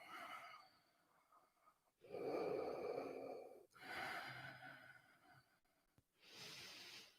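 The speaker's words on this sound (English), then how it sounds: "Full inhale and exhale out." A person takes deep, audible breaths during a yoga class, a slow inhale followed by a long, airy exhale out the nose, repeated in cycles with quiet gaps between.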